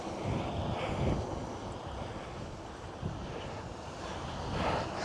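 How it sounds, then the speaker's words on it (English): Strong wind blows across the open shore of a Scottish loch, buffeting the microphone in a steady low roar with gusts swelling and fading, and no one speaking. "it is properly windy right now"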